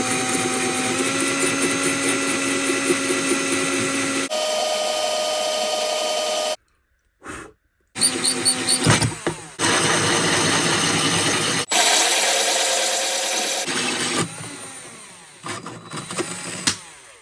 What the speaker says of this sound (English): Then I put the drill bit in the centre.